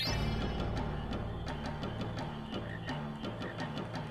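Frog croaks from the frog-catching minigame in Final Fantasy IX ring out as a steady series of short, clipped calls over continuous in-game music.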